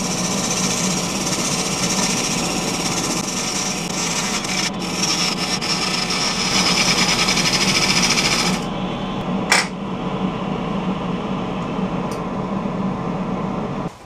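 Rapid machine-gun chatter from a lathe gouge turning a wooden bowl, a loud continuous rattling drone that drops away partway through, followed by quieter spindle hum and a couple of sharp knocks.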